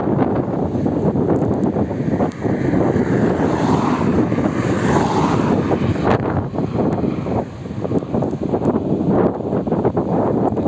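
Strong wind buffets a microphone outdoors while a small toy drone flies, a steady roaring rumble that stays loud and unbroken throughout, with no voices.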